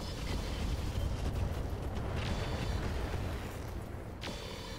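Heavy weapons fire from battle mechs in the Roguetech game, a rumbling barrage of booms and blasts sustained throughout with a few sharper bursts, no talk.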